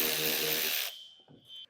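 A power drill whirs loudly, backing an 8mm screw out of the rear fender well of a 2024 Jeep Grand Cherokee, then stops, followed by faint clicks and a brief high whine from the tool.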